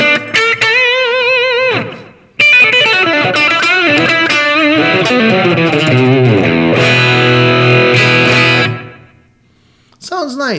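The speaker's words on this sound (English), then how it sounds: "Turn on the distortion." An electric guitar runs through the distortion effect on a Valeton GP-200LT multi-effect unit, with spring reverb and slapback delay, playing gritty, driven chords and riffs loudly before cutting to near silence at the end.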